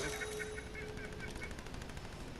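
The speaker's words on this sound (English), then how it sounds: "For me, he just sounds like he's constantly shooting." Continuous rattling gunfire from a glitched player in Fortnite, a steady stream of rapid shots heard faintly in the background throughout.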